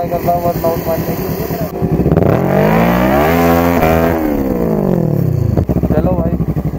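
A Kawasaki Ninja 650 superbike engine revs up close, idling, then climbing steeply in pitch, holding high and dropping back down before idling again, loud and near.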